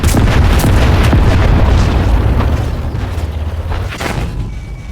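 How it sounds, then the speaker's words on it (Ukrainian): Artillery fire in the tank combat video game World of Tanks lands as a loud, heavy explosion whose deep rumble fills the moment and slowly fades over several seconds. "Артилерія! Праворуч!"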